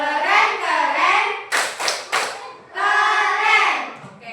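Classroom group doing a rhythmic clap, a few sharp bursts of hands struck together between stretches of a teacher's chanting voice.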